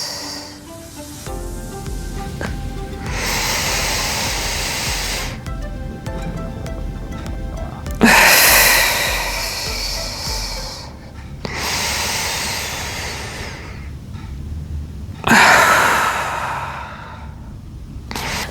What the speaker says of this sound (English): Long inhale through the nose and then exhale.